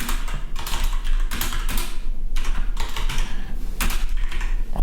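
Rapid computer keyboard typing, steady clattering keystrokes in quick bursts with brief pauses, close to the microphone over a low hum.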